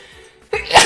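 A single sharp, loud sneeze bursts out close to the microphone after a moment of near silence, with a quick intake of breath leading into it.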